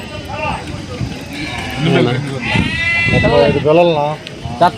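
Sheep bleat repeatedly at the Gudur weekly livestock market, several loud, close, wavering cries overlapping one another amid the market's bustle and people talking nearby.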